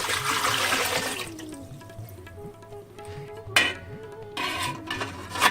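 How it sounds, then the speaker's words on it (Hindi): Three glasses of water splash and gurgle steadily into a metal idli cooker for a few seconds, with a couple of sharper sloshing bursts near the end. "इडली कुकर लेंगे, इसमें हम 3 गिलास पानी डाल देंगे।"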